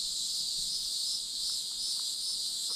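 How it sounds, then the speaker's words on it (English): Cicadas drone loudly from the trees along an off-grid homestead trail, a steady, unbroken high-pitched buzz that fills the air with no pauses. "The cicadas are screaming here."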